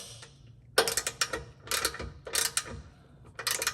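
A hand ratchet clicks in quick, close bursts, tightening a 19mm bolt on an Explorer ST rear differential brace, with short pauses between strokes.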